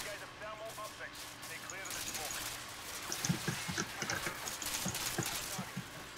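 Allied soldiers fire guns in the video game Modern Warfare 2, a busy spatter of gunfire and clatter under a steady battle din, with short bursts clustering in the second half.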